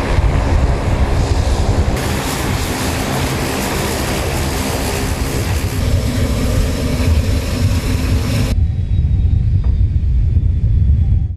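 A military airplane arrives at Ordu-Giresun Airport, its engines roaring loud and steady with a broad droning rumble before the noise drops off sharply.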